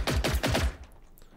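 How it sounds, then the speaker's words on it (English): Gunfire in the Generation Zero video game cracks out as a rapid burst of about five loud shots in under a second, then fades into a short echoing tail. "Use your hunter rifle."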